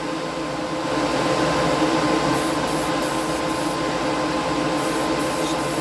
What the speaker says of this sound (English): Spray your one section first.